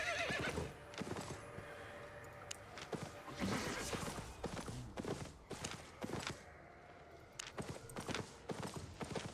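A horse mount in a video game gallops with rapid, rhythmic clip-clopping hoofbeats and gives a sharp neigh, close and clear throughout.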